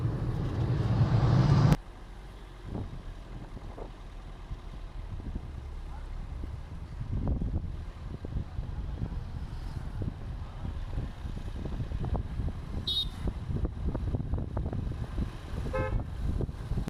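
Highway traffic near Karimangalam: a vehicle whooshes past loudly at the start, followed by a low, quiet road rumble with wind noise and a few faint, distant horn toots.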